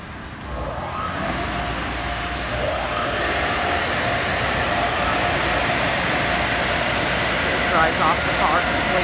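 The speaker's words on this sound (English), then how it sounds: "So now here goes the Max Air dryer now" Max Air dryer on a Laserwash G5 car wash at a Chevron station roaring to life, a loud steady rush of blowing air heard from inside the car, with someone talking over it.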